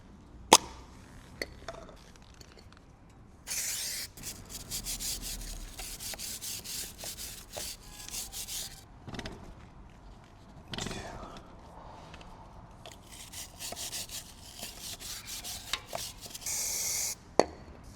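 A brush scrubs the chain of a Triumph Scrambler 400X motorcycle, giving bursts of close, rough rubbing strokes broken by short pauses and a few sharp knocks.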